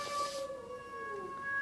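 Two cats yowling while fighting, a drawn-out wavering howl that rises and falls in pitch, loud and close, with a brief hiss at the start.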